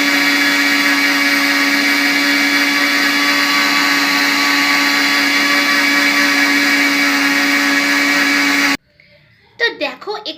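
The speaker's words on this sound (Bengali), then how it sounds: "আর এবার কিন্তু আমি এটা মিক্সিতে গুঁড়ো করে নেব।" A mixer grinder grinds semolina into powder with a loud, steady motor whine and hum that stops abruptly near the end, followed by a voice speaking.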